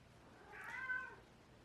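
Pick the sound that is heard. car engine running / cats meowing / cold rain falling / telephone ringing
cats meowing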